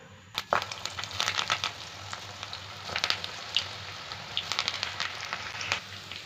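Millet pakoda batter mixed with onion is dropped bit by bit into hot oil and fries with a close, steady sizzle broken by sharp crackles and small pops.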